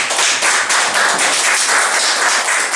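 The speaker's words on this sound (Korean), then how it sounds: "목사님 박수 한번 같이" Church congregation at a Wednesday service clapping together for their pastor, a steady, dense patter of many hands close by, sustained without pause and no voices over it.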